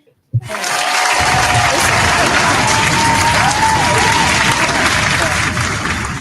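A church audience bursts into loud, sustained clapping that starts abruptly and holds steady, a dense crowd of applause with faint voices mixed in.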